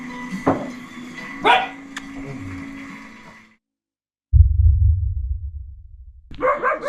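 Dogs at an animal shelter in Armenia give a few sharp, close barks over a noisy background, then a short silence, then a loud, low rumbling thump and more noise.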